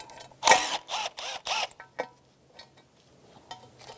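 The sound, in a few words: removing 10mm nuts from Infiniti G35 intake plenum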